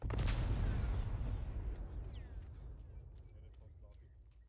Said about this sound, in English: Stay back. Touching off the bomb.